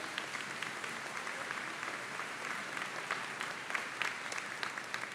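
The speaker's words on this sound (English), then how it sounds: "Could you give all of these folks just a huge round of applause?" Applause fills a high school commencement ceremony, a steady, fairly distant wash of many hands clapping that holds at an even level without a break.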